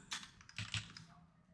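A few quick keystrokes clatter on a computer keyboard while a search term is typed into an Excel spreadsheet, quiet and close, in a short burst.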